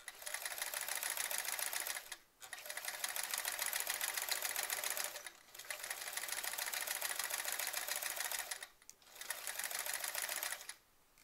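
A sewing machine stitches a quilt in close, fast, steady runs. Four bursts of rapid whirring are divided by short pauses, and no voices are heard.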